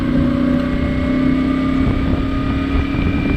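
A 2025 CF Moto 450 MT motorcycle engine drones steadily while riding, a muffled, even hum with a few tonal harmonics mixed with wind noise.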